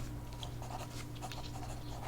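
A pencil scratches short measurement marks in a quiet piercing shop setting, faint soft strokes in brief bursts over a low steady hum.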